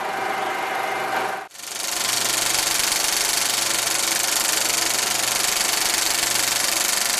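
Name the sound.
Atlas missile rocket engine firing on test stand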